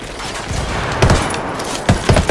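Video game gunfire in Ghost Recon Wildlands, a sustained burst of automatic fire with heavier shots standing out near the start and again toward the end, loud and close throughout.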